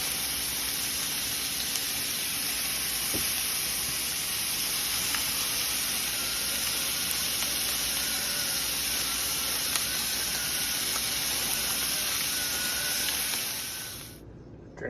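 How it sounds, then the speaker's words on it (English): A pound of hamburger meat browning in a pan: a continuous, even sizzle and hiss close by that lasts almost the whole time and then cuts off abruptly near the end, with no talking. "We're gonna brown off a pound of hamburger"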